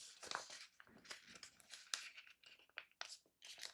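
Paper being folded and creased by hand for an origami winged heart, a close, quiet run of crinkling, rustling and sharp crease sounds with no talk.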